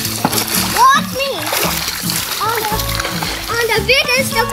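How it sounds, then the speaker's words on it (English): Children shout and chatter at a swimming pool, with continuous splashing from a child jumping into the deep water, the watery noise running under the young voices throughout. "I'm gonna jump into the deep water."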